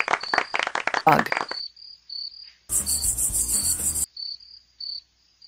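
A cartoon grasshopper chirps in a rapid, pulsing burst lasting over a second, loud and close, between quieter repeated high chirps and a brief stretch of crackly clicking before it.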